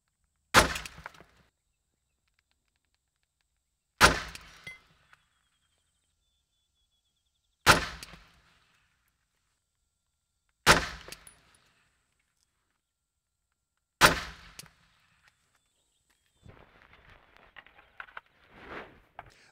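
Five loud, sharp rifle shots are fired from inside a car through its windshield, spaced about three seconds apart, each a hard crack with a brief decay, followed by faint rustling and knocking.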